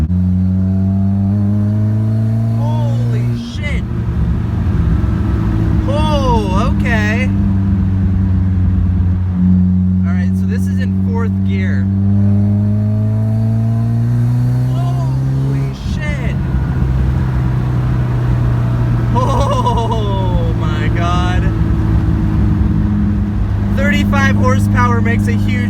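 A GM Ecotec-engined Mazda Miata with nitrous oxide being sprayed revs loudly and close, its exhaust tone rising and falling in several strong pulls over about 25 seconds, with someone talking over parts of it.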